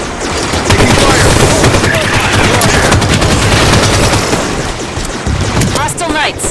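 Loud, dense automatic gunfire and explosions from a Halo 5: Guardians Warzone Firefight battle rattle continuously, with game voices talking over the shooting.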